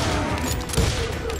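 Gunfire in the video game Call of Juarez: Gunslinger, a dense, continuous barrage of rapid shots and booms that fills the whole moment with no pause.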